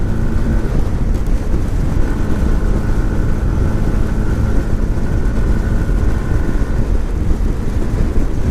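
A 2018 Yamaha MT 125 motorcycle at riding speed gives a steady, loud engine drone with heavy wind rumble. A faint tone rises midway and then holds, with no pauses and no speech.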